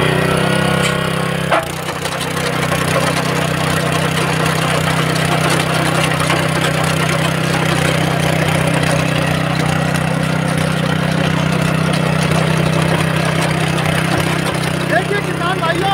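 A power tiller engine runs continuously while making a second tilling pass over soil, a loud steady low drone with a brief change in tone early on.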